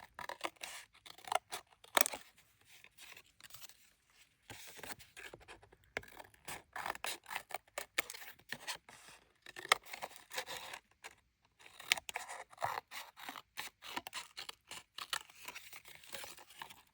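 Scissors trim washi-taped paper card in a craft setting, a quick series of crisp snips and paper rustles, close by, in uneven bursts with short pauses and no talking.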